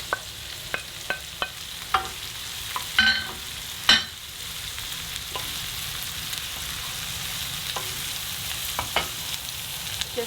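Pork mince and green beans stir-fried in a hot pan, a steady sizzle broken by sharp scraping clicks of the spatula, with a few louder tosses near the middle.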